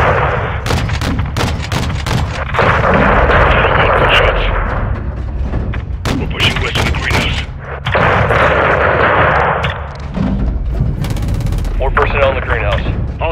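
Airstrike explosions and heavy gunfire pounding a building in Modern Warfare 2, loud booming blasts and rapid shots in repeated bursts, with radio voices talking between them.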